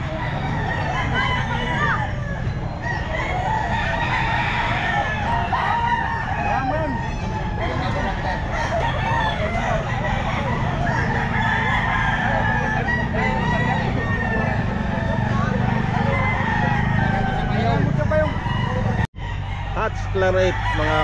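Gamecocks at an outdoor pet market on a drizzly day, crowing and clucking amid steady crowd chatter and people talking nearby, continuous over the whole stretch with a brief dropout near the end.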